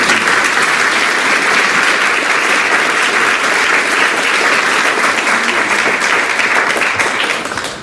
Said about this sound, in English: I think we should give a round of applause to